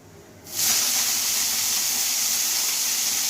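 Coriander leaves dropped into a hot pan for chutney, setting off a sudden loud, steady hiss that holds evenly after starting.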